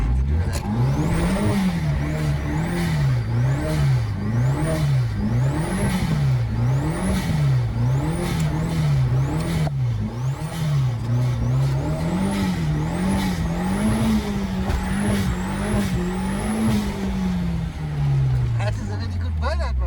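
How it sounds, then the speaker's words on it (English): A car does a burnout at a dyno day, its engine revving hard in repeated rising and falling sweeps with high tire squeal layered on top, loud and close throughout, winding down near the end. "That is a really good burnout, my brother."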